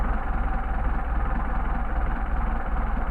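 Engine fitted with Solex 44PHH carburetors idling low at around 500–600 RPM, a steady close rumble with a slightly lumpy, pulsing rhythm.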